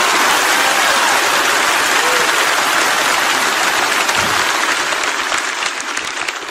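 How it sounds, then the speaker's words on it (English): A church congregation at a sermon claps hands in a loud, dense wash of applause that holds steady for several seconds, with no voices rising above it. "I need somebody to clap your hands like you believe the promise today."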